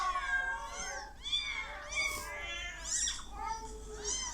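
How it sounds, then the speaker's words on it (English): A cat in a Virgin Media TV advert meows repeatedly, several clear, close, drawn-out cries in quick succession with no voices over them. "Online cat videos when you're bored."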